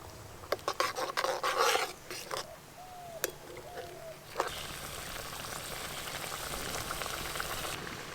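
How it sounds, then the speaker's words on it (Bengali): Fish curry broth with poppy seed paste bubbling hard in a pan, a continuous rolling boil heard close after some clattering and brief kitchen noises at the start. "ঝোল খুব ভালো করে ফুটে গেছে"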